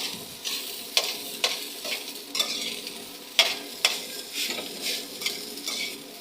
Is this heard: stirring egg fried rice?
yes